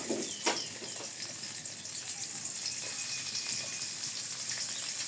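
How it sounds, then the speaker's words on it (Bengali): Garlic and green chillies sizzle in hot oil in a wok, giving a faint but constant hiss with a small clatter at the start. "রসুন দিয়ে দিই কাঁচামরিচ দিয়ে দিই"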